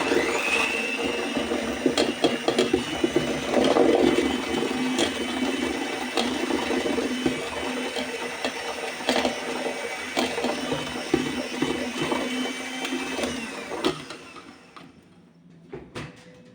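An electric mixer whirs steadily as cake batter with sugar and vanilla sugar is beaten, a continuous motor drone with small rattles that shuts off near the end.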